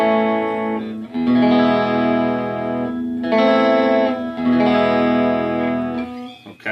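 Fender Player Stratocaster electric guitar on its middle single-coil pickup, played through a Peavey Classic 30 tube amp with an MXR 78 Badass Distortion pedal, strumming loud sustained distorted chords that ring out in several bursts, alone without talk.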